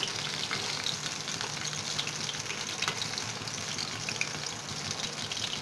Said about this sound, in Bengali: আট থেকে দশ মিনিট লাগে সমস্ত পকোড়াগুলোতে একটা ইভেন কালার চলে আসা অবধি আমি এটাকে একটু ভাজবো